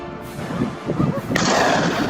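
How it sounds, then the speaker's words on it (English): A rapid succession of gunshots is fired at a charging wild boar in a forest, loud booming reports running into one another and echoing, over a dense, noisy outdoor background. "A rapid succession of gunshots echoed,"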